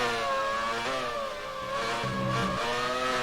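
A race car engine in a sim racing game revs hard, a loud, close, harmonic whine that climbs, dips briefly as the throttle lifts, then surges again, with no voices over it.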